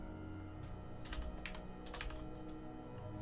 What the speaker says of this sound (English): I'm still in the middle of typing.